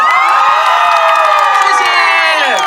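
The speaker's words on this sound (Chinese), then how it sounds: "尖叫声！" A large audience at a seaside outdoor concert screams and cheers loudly and continuously, a dense wall of high shrieks and whoops filling the whole stretch.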